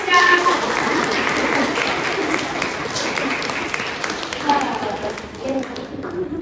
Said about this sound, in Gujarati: ચલો તાળી પાડો